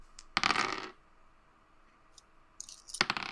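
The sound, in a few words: dice being rolled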